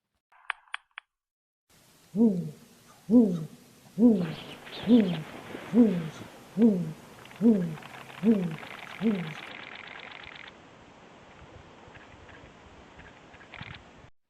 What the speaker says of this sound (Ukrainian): Сова осілий птах, дивовижний птах, таємничий, красивий та незвичайний